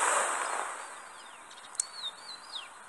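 Outdoors at night by a fishing spot, a few birds give thin, high whistling calls and short chirps, faint and somewhat distant over a soft background hiss.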